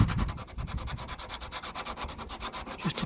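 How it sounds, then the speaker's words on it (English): Sandpaper of 180 grit lightly rubs a rusty part from a Gen 7 Toyota Celica, a steady rhythm of quick back-and-forth strokes, close and continuous, with no talking. "So what I'm going to do now is give it a very light, I'm going to give it a very light sand,"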